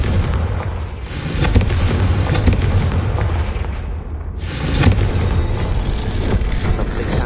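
The Confringo explosive spell fires in Hogwarts Legacy, with two heavy booming blasts and a long rumbling roar between them, loud and close.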